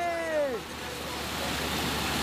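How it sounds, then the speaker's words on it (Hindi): Water pours from a truck-bed swimming pool out into farm fields in a steady broadband rush. A brief voice-like tone sounds at the start, then the flow continues as an even, close wash of noise. "पानी खेतों में जा रहा है"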